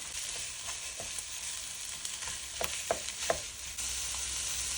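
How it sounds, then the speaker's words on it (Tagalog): Ground pork, about 300 grams, fries with onion in a pan, giving a steady close sizzle broken by several soft scraping clicks as the meat is stirred. "Lagay ko na po 300 grams na pork."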